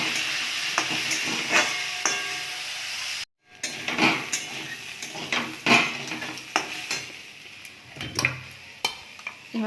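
Vegetables, dalia and masoor dal fry in a pan under steady sizzling, broken by frequent sharp clanks and scrapes of a spoon stirring against metal, with one brief silent gap.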